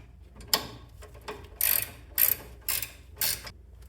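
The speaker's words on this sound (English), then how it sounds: "So I'm going to crank this down and pull that shaft up." A ratchet wrench cranking a nut down on a threaded shaft during front suspension work on a 1994 Chevy K1500, five or six short clicking ratchet bursts at a steady rhythm, close and clear with no talking.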